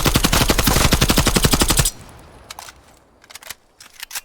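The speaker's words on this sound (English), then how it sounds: "I'm gonna dump every single round out of my gun" Video game automatic gunfire empties a full magazine in a fast, loud, evenly spaced burst of about thirty shots, then stops, leaving a few faint clicks and clacks of the reload.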